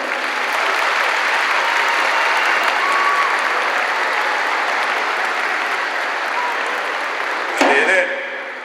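Dense, steady applause from a concert audience at an annual folk dance ensemble show fills the hall for about eight seconds, then breaks off with a clatter and fades.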